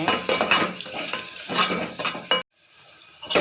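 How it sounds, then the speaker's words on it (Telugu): Onions frying with turmeric and salt for an Andhra-style potato kurma, the pan clattering with repeated stirring scrapes over a steady sizzle, cut off by a sudden brief silence before faint frying resumes; no one speaks. "అన్నీ ఒకసారి ఫ్రై చేసుకోవాలి"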